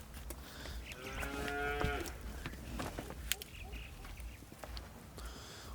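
A cow lets out a single drawn-out moo nearby, followed by faint barn noises and shuffling in a quiet shed where young cattle are fed.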